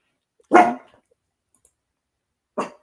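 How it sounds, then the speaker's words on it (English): A dog gives two sharp barks close by, the first loud and the second softer about two seconds later, with silence in between. "What are we barking at today?"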